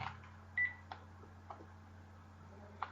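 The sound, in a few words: house telephone ringing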